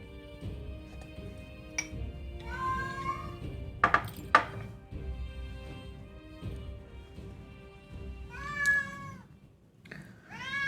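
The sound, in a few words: cat meowing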